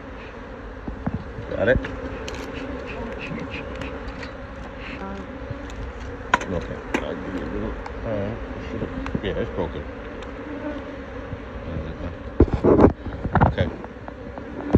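Honey bees drone and buzz steadily around an open hive during an inspection, a constant close hum with individual bees whizzing past, while people talk briefly and handle the frames.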